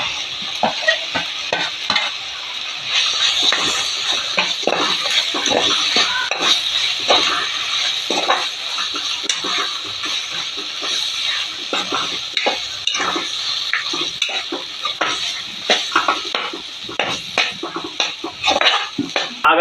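Marinated chicken and masala are stirred in a pan, the spatula scraping and clinking against the metal in a busy, irregular rhythm over a continuous bright sizzle, close and fairly loud throughout.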